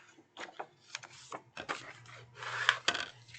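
Scored decorative paper being folded over by hand for a DIY bag, giving soft creasing and rubbing rustles in short bursts, close and fairly quiet with no talk.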